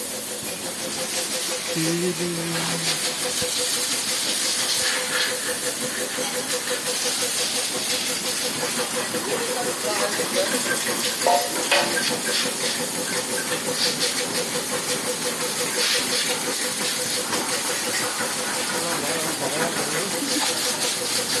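Continuous loud hiss of water hitting a hot car engine with an oil leak, with a steady mechanical hum underneath and brief bursts of spraying.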